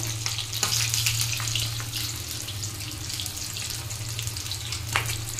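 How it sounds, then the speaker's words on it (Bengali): Fish frying in a pan gives a steady close sizzle and hiss over a constant low hum, with a few sharper crackles and no talking. "এখানে মাছ ভাজা হচ্ছে, দেখো"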